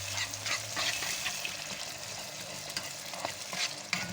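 Red pepper powder and tomato paste are stirred together in a hot pot, with a steady close-up sizzle and frying hiss and faint scraping of a spoon across the bottom, and no voices.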